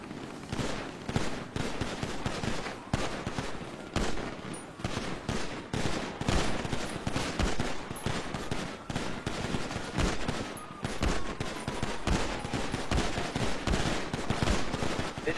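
Gunfire in a roleplay video game firing into bushes: rapid bursts of shots, near and loud, running almost without a break, with faint voices behind them.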